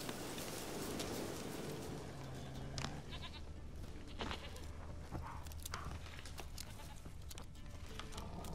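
A goat bleats in The Witcher 3 over a steady rush of wind or rain, with repeated short calls against constant background noise.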